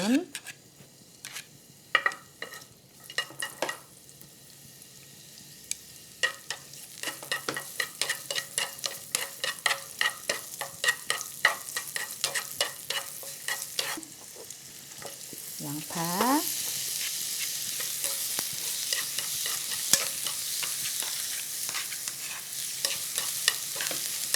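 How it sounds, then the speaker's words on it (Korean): Oil sizzles steadily in a hot pan as vegetables such as carrots are stir-fried for japchae, with frequent sharp clicks and scrapes of a utensil against the pan. "이제 재료를 볶는데 좀 딱딱한 순서대로 뽑도록 하겠습니다"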